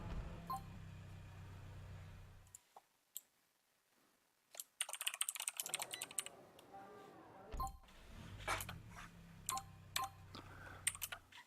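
Name being typed on a computer keyboard during play of a retail shop simulator game, with scattered quick key clicks in short bursts separated by pauses, close and moderately loud.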